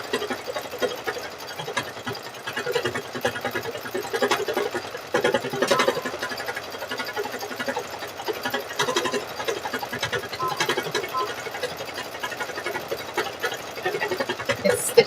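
Embroidery sewing machine stitching a design, a steady fast mechanical chatter of needle strokes continuing throughout at moderate level, without a break.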